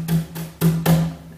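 A drum played with brushes produces short swishing strokes in a loose rhythm, about four sweeps in quick succession, close and moderately loud, with no talking.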